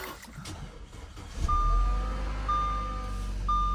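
A cold Audi A4 engine cranks and catches midway, then settles into a steady low idle, while thin, repeated electronic warning chimes ring out over the running motor.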